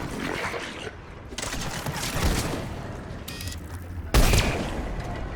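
Bursts of rapid gunfire crackle in the video game Mass Effect 3 during a firefight on Thessia, volleys of shots starting and stopping, with one sharp, louder blast near the end.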